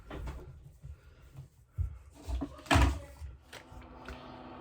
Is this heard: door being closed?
yes